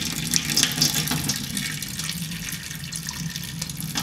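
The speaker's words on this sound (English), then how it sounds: "So I'm gonna pour off the water." Water is poured off rose seeds in a container to rinse away debris, giving a steady splashing trickle with a few bright drips throughout.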